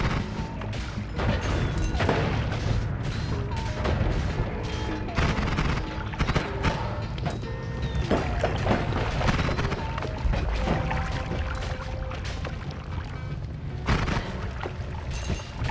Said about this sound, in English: where'd that bomb come from?